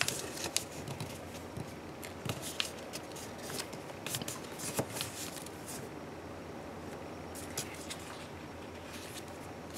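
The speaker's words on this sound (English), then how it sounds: "you're going to fold this bottom side over here to the vertical center crease" Paper for a swallow-style origami paper airplane is folded and creased up close, giving soft crinkles, rustles and sharp pressing scratches scattered irregularly throughout.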